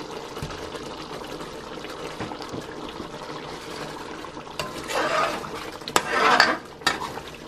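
Spaghetti being stirred into sauce in a cooking pot, with utensil scrapes and soft wet swishes that grow into louder, busier clatter toward the end.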